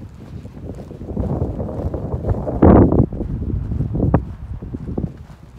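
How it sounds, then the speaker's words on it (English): Wind gusts buffet the microphone on a Pacific Crest Trail hike near Crater Lake, a rough rumbling roar with one strong blast midway, mixed with footsteps and rustling. "it's a little windy"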